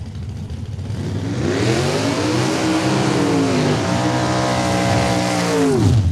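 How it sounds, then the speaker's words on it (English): Dragsters, an altered and a dragster, do side-by-side burnouts at a drag race at Saskatchewan International Raceway: loud, close engines roar and rev, with pitch rising and falling over a steady wash of tire noise. "altered with dragster, side-by-side burnouts"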